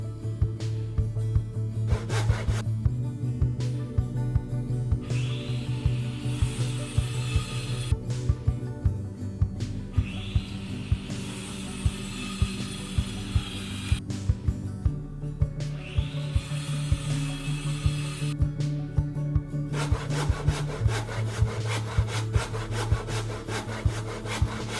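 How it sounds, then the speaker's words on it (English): Plastic toy pieces being sanded by hand to clean up joining surfaces before gluing, a steady rasping scrape repeating in long strokes with short pauses, close and fairly loud with no talk. "Always remember to sand your pieces before you glue them together."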